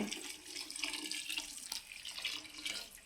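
Water streams steadily from a tap into a pot of jaggery, one kilogram set to be melted into syrup for traditional bellam chalimidi, making a continuous close splashing rush with no talking.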